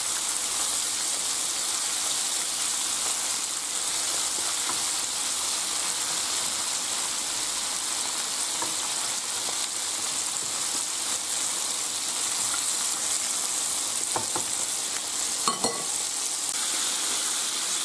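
Chicken pieces frying in oil in a pan for Spanish pollo en pepitoria, a steady, dense sizzle and crackle close by, with a couple of brief clatters near the end.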